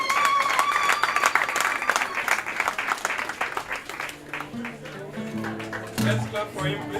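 An audience applauds a graduating refugee student in a camp with a burst of hand clapping that fades after a few seconds. Talk and a lingering tonal sound carry on beneath and after it.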